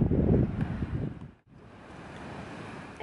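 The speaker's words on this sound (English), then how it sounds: "Guys, it's gotten so windy." Wind gusts outdoors at night, rumbling into the microphone in a loud, buffeting rush that drops away briefly and returns as a steadier, softer blow.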